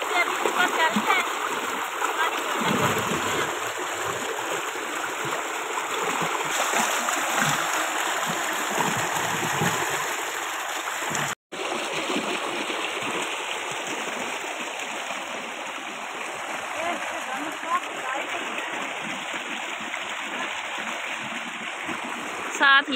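A small stream runs in a steady, continuous broadband rush close by in an outdoor rural setting, splashing faintly throughout, with no clear voices over it.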